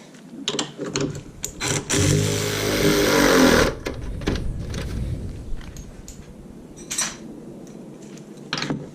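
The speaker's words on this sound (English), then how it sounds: "I'm going to tighten up this top bolt" Mechanical clanks and a sustained wrench or impact tool burst while tightening the top front strut bolt on a Saturn Ion, loud and close for about two seconds, surrounded by metallic clicks and knocks.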